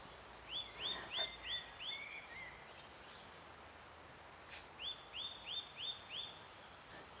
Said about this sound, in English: That really loud one is a chaffinch and they drive me insane.